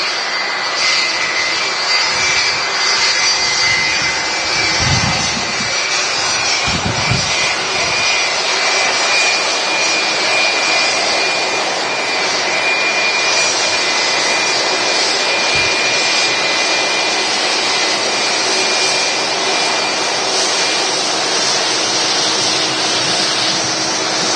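A Boeing 757 jet landing at Manchester Airport, its engines a loud, steady broadband roar that holds for the whole stretch with no voices over it.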